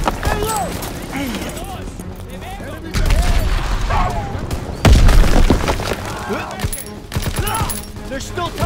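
A grenade bursts in Call of Duty WWII combat, a heavy boom rising out of scattered gunfire and rattling shots, while soldiers shout over the noisy battle.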